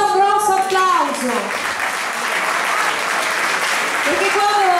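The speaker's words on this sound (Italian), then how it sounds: "Facciamo ancora un grosso applauso" Audience applause after a live band performance at a music festival, a dense steady clatter of clapping throughout with a voice briefly audible at the start and end.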